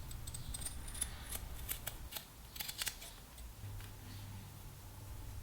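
Scissors snip through unidirectional carbon fibre cloth in a string of crisp, close clicks and crunches, irregularly spaced over a low room hum, with no voices.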